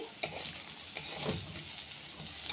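Bitter gourd, potato and onion frying in a pan, with soft crackling sizzle and occasional stirring scrapes and taps, fairly quiet and close.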